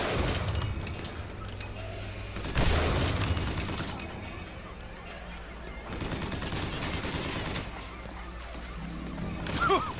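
Turret fire in Bioshock Infinite comes in loud, rapid bursts of gunfire with short gaps between volleys, mixed with crashes and booms from the in-game fight.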